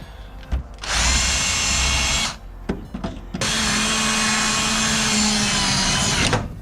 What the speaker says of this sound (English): we drilled out the rivets, which is not very hard to do